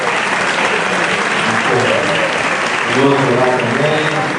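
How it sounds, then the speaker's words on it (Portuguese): Church audience clapping for permanent deacons, loud sustained applause with a voice speaking briefly over it. "a gente bater palmas para os nossos diáconos permanentes"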